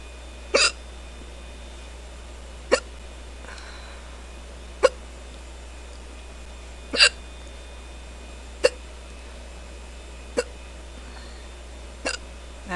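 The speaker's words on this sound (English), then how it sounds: "I'm surprised I got the hiccups so quickly this time." A young woman hiccups after drinking beer: seven sharp, isolated hiccups about every two seconds, close and clear in a quiet room with no talking.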